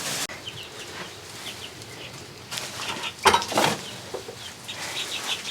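Young chicks in a brooder barn, soft clucks and chirps with bursts of wing flapping and rustling, close by and fairly quiet, no voices.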